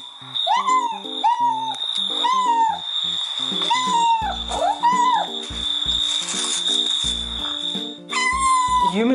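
A recorded cat's repeated meows, played through a speaker to a group of dogs, come one after another against a steady high electronic tone, with short pauses between calls.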